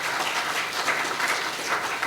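Steady applause from an audience at an award ceremony for a season grand finale, a dense even patter of many hands clapping throughout without a break.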